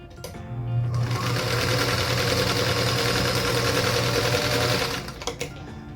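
A sewing machine stitches quilt star fabric pieces in one continuous run of rapid mechanical chatter lasting several seconds, close and clear, then stops, with faint handling noises afterward.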